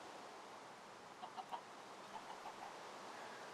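A few soft chicken clucks from Minecraft, faint and brief over a steady background hiss, clustered in short bursts with nobody talking.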